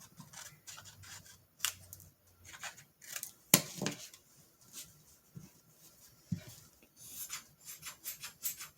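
Scissors cut through craft material in a quiet room with short, faint snips and rustles in an irregular rhythm, including a sharper snip near the middle and a denser run of cuts toward the end.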